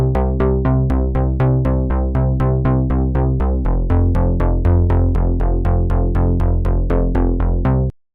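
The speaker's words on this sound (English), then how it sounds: "a lot of artists use what's called the fat line bass preset" Synthwave bass line played on a fat line bass preset in the Vital synth, with a steady run of about two dozen evenly spaced plucked notes, loud and upfront with no voices, stopping abruptly at the end.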